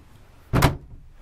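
A sliding closet door rolls along its track in the rear bedroom of a 39-foot 2005 Gulf Stream Crescendo 8386 motorhome, making one brief, close, solid swish-and-thump with no one talking.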